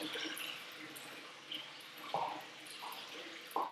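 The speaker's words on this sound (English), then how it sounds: "the first thing you hear is the water here in the kitchen, because they just have it running 24/7" Spring-fed water runs constantly in a kitchen of a thousand-year-old villa in Tuscany, a faint steady trickle and splash with a couple of brief drips and clinks over it.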